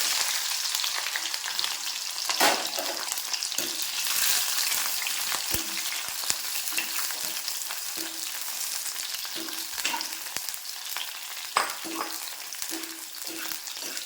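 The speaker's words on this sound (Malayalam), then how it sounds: "നമ്മുടെ എണ്ണ ചൂടായി നമുക്ക് കുറേശ്ശെ ഇട്ടിട്ട് വറുത്തെടുക്കാം" Okra pieces fry in hot oil, a loud continuous crackling sizzle that stays close and even, broken by a few sharper pops and light clinks, with no talking.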